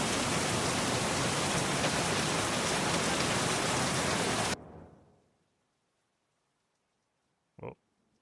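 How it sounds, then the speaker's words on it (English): Loud, dense rain pours down steadily outdoors for several seconds, then cuts off abruptly into near silence broken only by one short knock. "This rain is super loud."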